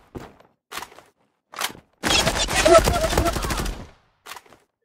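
Gunfire in the online shooter game Zula: short clipped bursts of shots separated by silence, then a sustained rapid volley, then one last brief burst.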